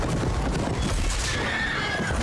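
A horse neighs loudly in a fantasy drama battle scene, a sustained whinny over a dense wash of background noise and action sound, with no talk in the brief moment.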